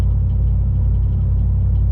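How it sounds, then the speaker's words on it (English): Inside a 2021 Chevrolet Silverado RST cruising at 60 mph, tire and road noise forms a steady, loud low-pitched hum and rumble with no other sounds. "You are getting, obviously, a little bit of road noise from the tires and whatnot, but nothing too crazy."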